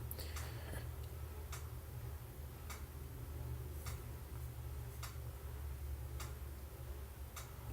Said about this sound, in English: If you hear a ticking in the background, I have a pendulum clock in this room.